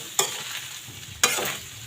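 Tofu and pork sizzle in a frying pan, a soft continuous hiss punctuated by two sharp stirring scrapes of a utensil.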